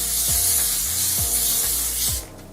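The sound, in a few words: spraying hair spray onto wig lace hairline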